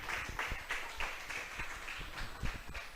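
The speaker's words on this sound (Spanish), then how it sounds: "Vamos a brindarle un fuerte aplauso a nuestro Dios" Congregation applauding during a church sermon, a steady wash of many hands clapping at moderate volume with uneven rhythm, no voices over it.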